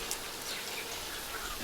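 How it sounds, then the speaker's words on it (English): Steady hiss of simulated thunderstorm rain on a studio set at Universal Studios Hollywood, a dense bright patter with no pauses and no voices. "We have summoned a thunderstorm out of midair."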